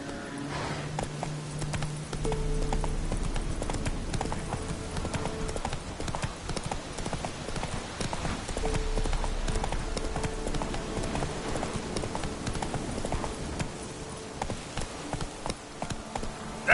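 Steady clip-clop of the horse Roach's hooves trotting in The Witcher 3 remastered, an even rhythmic gait that runs the whole stretch, close and moderately loud over a soft ambient bed.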